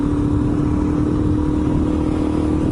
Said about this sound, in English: So here I am on my mate's, this is Cliff's DRZ400, and it's a cracker of a bike